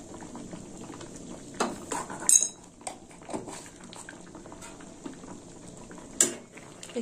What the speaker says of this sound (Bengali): একটু নাড়িয়ে চাড়িয়ে নেবো।